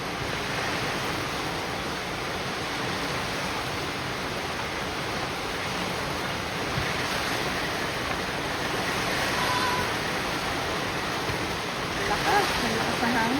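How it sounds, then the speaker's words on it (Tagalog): Strong, steady wind roars across the whole clip, a broad rushing noise that swells slightly in places without pause. "Ang lakas ng hangin."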